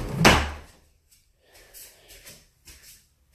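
A bedroom door swings shut with one firm thud at the start, followed by quieter scraping and latch sounds in an otherwise still room.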